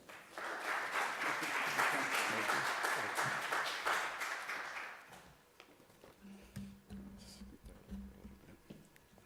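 An audience applauds a speaker to the podium at an evening university lecture in Tangier, with dense, steady clapping for about five seconds that then thins out into scattered claps and a low voice.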